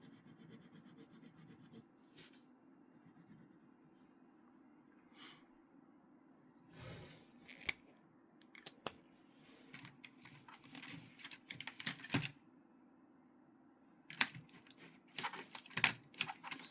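Pen scribbling and crosshatching on paper during manga inking practice, faint scratchy strokes in short irregular bursts that grow busier and denser toward the end, with no talking.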